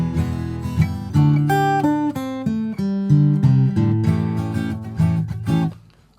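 An acoustic guitar plays a blues shuffle phrase, plucked notes and chords ringing clearly in a loping rhythm before fading out.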